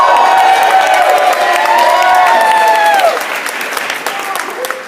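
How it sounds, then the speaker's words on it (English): An audience bursts into applause and cheering for Fred Mercer, clapping mixed with whoops and shouts over a tonal background, fading somewhat toward the end. "Right up here, Fred, let's get you a big round of applause!"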